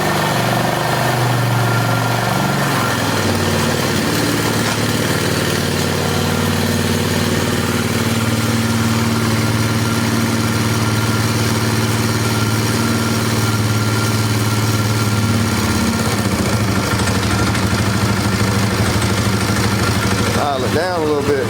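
A Polaris 325 Magnum four-wheeler in rough condition idles steadily and loudly up close, its mid-pitched engine drone running continuously and settling lower as the idle is brought down, with no voices.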